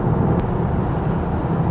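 Inside a 2026 Audi Q3 crossover in dynamic mode, the engine gives a muted, steady low drone blended with road and wind noise, with no voices over it.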